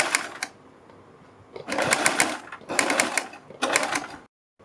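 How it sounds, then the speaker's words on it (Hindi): A sewing machine stitches loops onto a kurti neckline in three short bursts of steady whirring, each a second or so long, separated by brief pauses, close and moderately loud. "इसी सिलाई के ऊपर हम ये सिलाई लगा के चले जाएंगे और इस निशान तक इनको हम जोड़ देंगे।"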